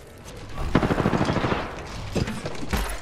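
Rapid automatic gunfire in the video game Apex Legends, a close rattling burst of shots followed by a couple of sharper single shots, loud against a steady background.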